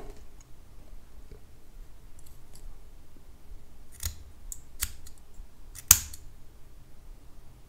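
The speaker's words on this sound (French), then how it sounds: "le dilemme étant de savoir quelle quantité de coton couper" Scissors snip cotton wick for a vape coil, with a few sharp, close clicks spaced over several seconds and the loudest cut near the end against quiet background.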